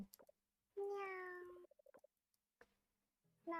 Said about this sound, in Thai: คนชื่อบัตเตอร์ พูดแต่คำว่าเหมียว